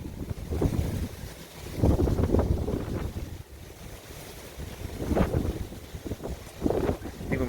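Strong gusting wind outdoors just after a storm, roaring and buffeting the microphone in rising and falling surges, close and loud.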